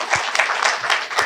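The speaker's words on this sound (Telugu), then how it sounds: "ఇంత గ్రాండ్ మాస్టర్లందరికీ గట్టిగా చప్పట్లు కొడదాం." An audience applauds the grand masters at a spiritual talk, dense sustained clapping close by for a brief moment with no speech over it.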